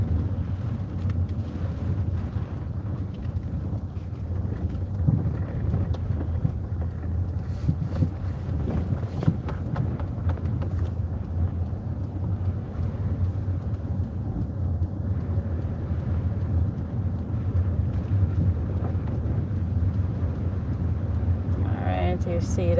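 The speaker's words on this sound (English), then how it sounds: "Yes, that's the wind doing its number." Strong Hurricane Melissa winds roar around a car driving along Hillman Road, a steady low rumble and buffeting that continues throughout beneath occasional talk from people inside.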